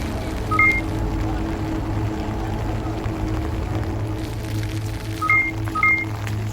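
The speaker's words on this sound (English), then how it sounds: "all of a sudden an alert from my phone goes off" A phone alert sounds in short, bright tonal beeps, a few near the start and a cluster near the end, over a steady low hum and background rumble.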